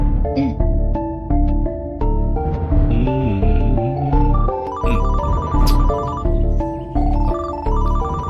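A mobile phone rings with an incoming call, a bright melodic ringtone repeating in regular bursts, loud and alone with no talk.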